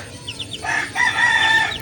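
A rooster crows once nearby, a loud, drawn-out call that rises and holds, preceded by a few short clucks.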